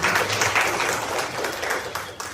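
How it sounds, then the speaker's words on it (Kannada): An audience at a stage event applauds a singer's performance of a Kanakadasa composition, steady clapping from many hands sustained close and loud throughout. "ಮತ್ತೊಂದ್ಸರಿ ದಯಮಾಡಿ ಚಪ್ಪಾಳೆ."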